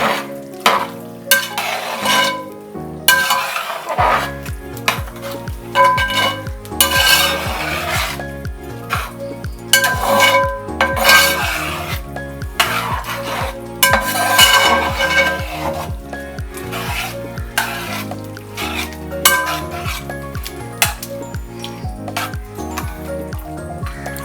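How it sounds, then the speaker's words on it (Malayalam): Thrissur-style chicken curry with kolli (tapioca) stirred in a pan, heard as repeated close scraping and rubbing strokes against the metal with a faint sizzle underneath, in an uneven rhythm. "ഇനി നമ്മൾ എന്താ ചെയ്യണമെന്നുണ്ടെങ്കിൽ നമ്മൾ ഒന്നുകൂടി ഒന്ന് ഇളക്കി കൊടുക്കണം."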